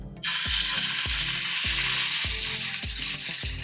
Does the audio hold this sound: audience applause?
no